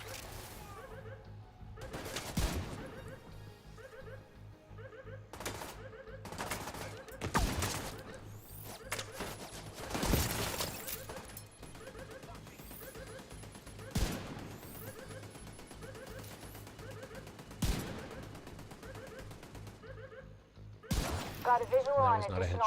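Machine gun fire in the zombie shooter Army of the Dead: repeated loud bursts and scattered shots with short gaps between them, over ongoing game noise and voices.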